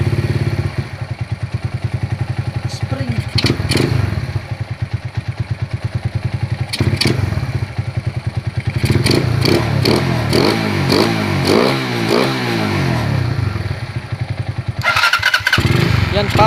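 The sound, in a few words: Euro Viperman 150 motorcycle engine running with 30mm carburetor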